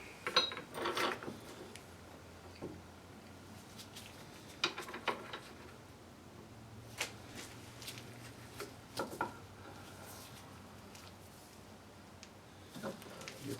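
Socket wrench ratcheting onto a fitting during a 1985 Chevy K10 truck restoration, heard as scattered short metallic clicks and taps near the mic in a quiet workshop, with brief busier bursts at the start and near the end.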